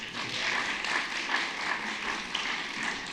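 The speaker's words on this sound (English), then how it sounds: "One more round of applause for Stephanie." A symposium audience applauds steadily, a dense wash of clapping that holds at an even level for a few seconds with no voices over it.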